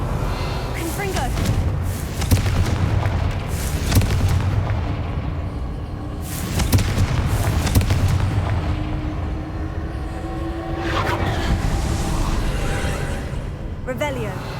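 Blasting-spell explosions from the Hogwarts Legacy video game roar in heavy, rumbling booms with crackling debris, several blasts swelling and fading in succession over sustained low-end noise.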